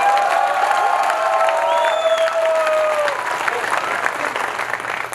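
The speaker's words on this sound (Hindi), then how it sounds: "ताली बजानी तो एक बार सारे दोनों हाथ ऊपर उठा के बजाओ।" A large audience at a comedy poetry gathering bursts into loud, sustained applause with cheering and shouts, a dense wall of clapping that slowly eases over several seconds.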